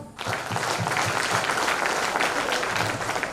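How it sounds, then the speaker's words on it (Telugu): An audience at a seminar event in a Guntur resort breaks into sustained, dense applause with many hands clapping together, loud and steady throughout after a short onset. "నేను స్వామి గురించి కోసం బిగ్ క్లాప్స్."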